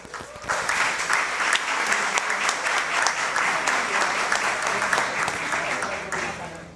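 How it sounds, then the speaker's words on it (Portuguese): An audience at a Brazilian award ceremony applauds an honoree in a sustained, even burst of clapping that swells quickly and holds steady before it begins to taper off. "Receba assim os nossos aplausos."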